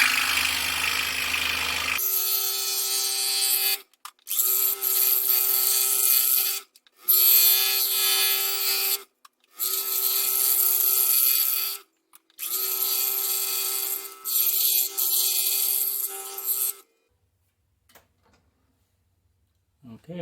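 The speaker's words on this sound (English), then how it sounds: "So I'm going to use the scroll saw." A scroll saw makes an interior cut in wood for a phone stand, buzzing loudly and close in several runs split by short pauses before going quiet. A voice is heard briefly at the start.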